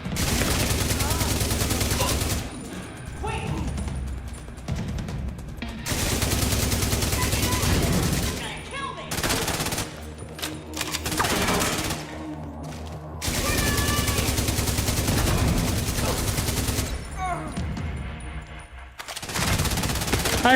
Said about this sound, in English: If I'm not using my shield at the moment, then why not use the LMG?